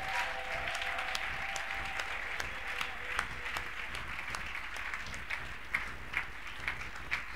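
A church congregation at a Sunday service applauds in a soft, sustained patter of many hands, fairly distant and even, with a few sharper individual claps standing out toward the end.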